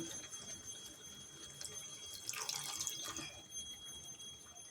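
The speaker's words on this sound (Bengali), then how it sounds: "একটু জল দিই, প্রচুর আওয়াজ হচ্ছে, একটু জল দিলাম।" Water splashed into a hot pan on a low gas flame gives a brief burst of hissing and spluttering near the middle, over a steady background hiss.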